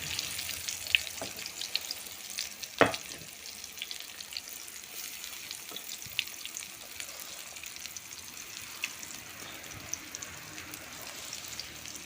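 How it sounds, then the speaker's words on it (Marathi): Eggplant slices coated in a spice mixture fry in hot oil, giving a faint, steady crackle with scattered pops and one sharper clatter, heard alone without speech. "तर आता ही एवढी कापं मी फ्राय करायला टाकली आहेत"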